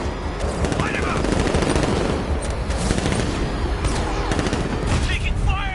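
Automatic machine gun fire in the video game Batman Arkham Knight, sustained bursts crackling loudly over a busy mix of explosions and game action, with voices in the clip.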